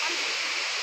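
A waterfall roars steadily at a scenic stream spot during a picnic outing, a dense, continuous broadband rush of falling water filling the whole short moment without pause.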